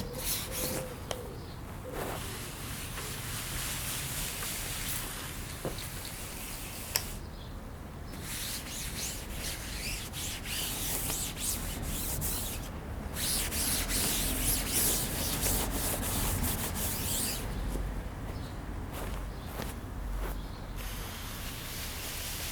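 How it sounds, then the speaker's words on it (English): Waterproofing wiped across tent fabric, a steady close rubbing and swishing with short pauses between strokes, no talk. "So you just do that and you give it a wipe. Make sure that you get total coverage in all the fabric."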